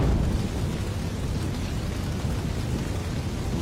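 Steady heavy rain pours down on a tree in a dense, even hiss with a low rumble underneath, continuous and close.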